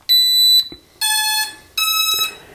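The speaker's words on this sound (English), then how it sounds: "When you hear that series of beeps," A JJRC X1 quadcopter transmitter powering on gives three loud, clear electronic beeps, each about half a second long with short pauses between them and nothing else heard.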